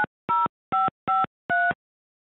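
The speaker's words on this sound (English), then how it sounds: "Please enter the area code and phone number you are calling now." Five short, clean telephone keypad DTMF tones dial a number at even spacing on a jail phone line, with nothing else heard.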